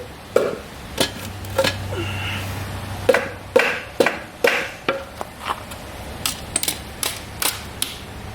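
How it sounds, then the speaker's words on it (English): Sharp metallic taps and knocks ring out one after another, irregular and close, as a bent radiator from a 2000 Honda CR250 dirt bike is straightened, with no talking over them. "now I just straightened out this radiator a little bit. I'm gonna continue because it's still a little bent."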